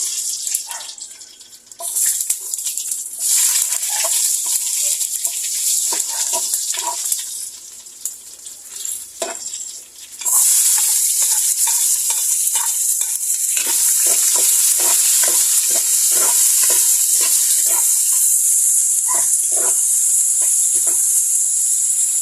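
Ricados, a mix of seasonings, hit hot oil and sizzle while a utensil clinks and scrapes in repeated stirring strokes, the sizzle swelling into a loud, steady hiss halfway through; no one speaks.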